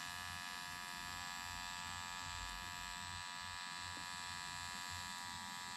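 A permanent makeup powder brow machine hums with a steady, even electric buzz. It runs continuously and faintly at close range with no voices.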